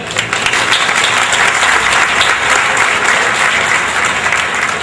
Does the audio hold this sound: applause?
yes